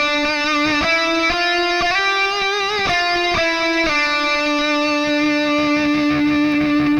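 A melody line with subtle vibrato, its sustained notes wavering gently in pitch as they step through a phrase, played loud and steady with a processed, slightly distorted tone and no talking.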